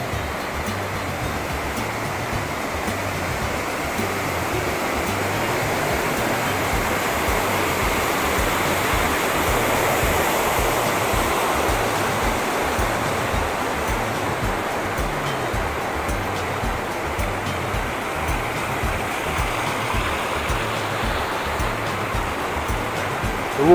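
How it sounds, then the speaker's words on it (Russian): Water runs from a small outdoor shower in the Himalayas near Vishnuprayag, India, making a steady, dense rushing splash that holds even and close throughout, with no talk. "Вот, как я говорю, душ локальный."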